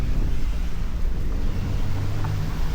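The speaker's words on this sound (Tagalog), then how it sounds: "Ang hangin." Wind gusting outdoors on a Toronto Chinatown street, a steady low rumbling roar of air buffeting close around the microphone, continuous throughout with no talking.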